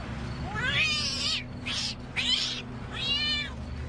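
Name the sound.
angry rescued kitten meowing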